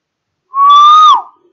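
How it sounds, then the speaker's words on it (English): A single whistle blast rings out clearly on one steady tone with strong overtones, lasting about 0.7 seconds before cutting off, loud and alone in an otherwise quiet room. "Now again I blow whistle."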